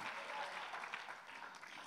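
Soft, fairly distant applause from a church congregation during a Sunday sermon, a steady wash of clapping with no one speaking over it.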